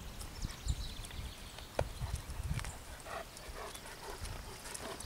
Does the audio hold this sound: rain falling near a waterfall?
no